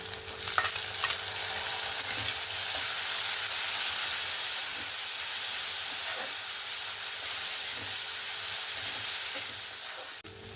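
Small shrimp frying in a pan with onion and slit green chilli, a steady loud sizzle and hiss with occasional stirring scrapes throughout, no talking.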